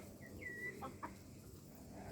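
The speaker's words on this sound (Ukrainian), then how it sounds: "Курочка квокче." A hen gives a few soft clucks and a drawn-out call, faint and close over low background rumble.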